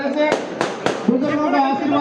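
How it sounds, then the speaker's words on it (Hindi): Firecrackers at a village welcome for a political candidate in Bhuapur: three sharp, loud cracks in quick succession with a crowd and a voice talking underneath. "आतिशबाजी चल रही है"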